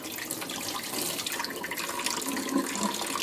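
Water running and splashing as soaked grains for rejuvelac are rinsed with filtered water, a steady close rush with light sloshing throughout.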